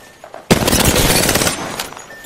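Loud, dense bursts of automatic gunfire from an Apex Legends battle, sustained rapid shots for about a second after a quiet start, then fading into scattered trailing shots.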